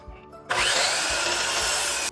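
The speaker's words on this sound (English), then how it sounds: "Now I'm going to rough cut my boards to about 32 inches long." A power saw rough-cuts walnut boards to about 32 inches long, a loud steady cutting roar that starts abruptly and runs for about a second and a half before cutting off, with no talk.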